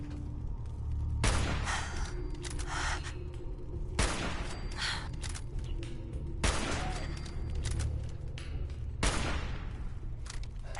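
Bursts of automatic fire from a machine gun turret in Fallout 4, several loud broadband volleys spaced a few seconds apart over a steady low rumble of game ambience.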